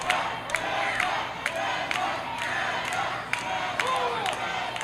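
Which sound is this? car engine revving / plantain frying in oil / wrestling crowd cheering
wrestling crowd cheering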